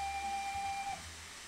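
Steam whistle of the 7F locomotive in the Train Simulator video game, a single steady shrill tone held for about a second before cutting off, loud and clear against a low rumbling background.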